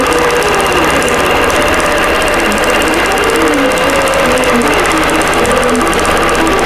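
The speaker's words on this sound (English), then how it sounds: "I restarted here, and it's going to go ahead and continue sewing out this portion." An embroidery sewing machine stitches out a quilting design with a loud, steady, rapid mechanical chatter that continues unbroken throughout.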